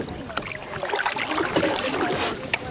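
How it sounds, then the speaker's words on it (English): A canoe is paddled on open water, with soft irregular splashes and dips of the paddles over light wind noise and no talking. "You just keep paddling on that side and I'll adjust my paddling accordingly"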